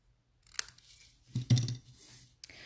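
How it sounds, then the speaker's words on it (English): Paper is snipped with scissors at a kitchen-table card-making session, producing three sharp, close cuts about a second apart, the middle one fullest and crunchiest, with no voices. "So we're gonna snip these guys."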